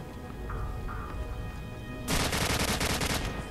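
An RPD machine gun in Call of Duty 4 fires a sustained, loud burst of rapid automatic rounds after a stretch of quieter game ambience, with no talk over it.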